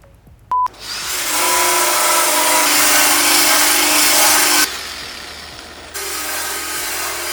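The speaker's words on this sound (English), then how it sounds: "we are just kind of grinding away, doing the boring, long, tedious stuff. Is grinding away a bunch of rust." A power grinder running loud and close as it strips rust from the body of an Acura TSX CL9 under restoration, a sustained harsh whine that cuts off partway, then starts again at a lower, steadier pitch.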